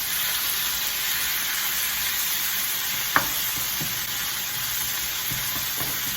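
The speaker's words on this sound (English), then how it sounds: "So we just want to brown the chilies just a little bit." Steady frying sizzle of chilies browning in a pan, a constant hiss throughout with one brief clink partway through.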